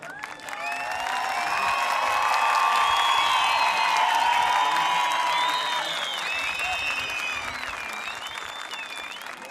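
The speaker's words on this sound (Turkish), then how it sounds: "Alkışları duymak ister misin?" Applause from a large crowd at an air show swells and holds as a dense, continuous wash of clapping and cheering, with a voice faintly audible through it before it slowly fades.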